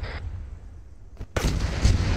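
Mortar fire in the Arma 3 video game: a quiet stretch, then a heavy, sudden boom and a rumbling second blast that roll on loudly to the end.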